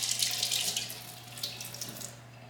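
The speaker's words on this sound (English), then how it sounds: "Gotta wash my hands first." Hands washed under a running kitchen sink tap in a home kitchen, a steady close splashing water stream with fluctuating wet patter over a low constant hum.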